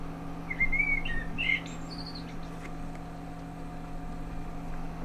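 Close indoor bird chirping inside a house: a quick series of bright tweets and short whistled notes early on, clear over a constant low electrical hum, then quiet hum alone.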